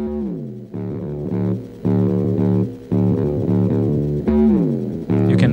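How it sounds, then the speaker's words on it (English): Distorted, synth-like guitar tones from a glitching octave pedal slide and jump unpredictably between pitches, a rubbery electronic warble played in short phrases with brief gaps. "You can kind of hear how it's like changing pitch randomly."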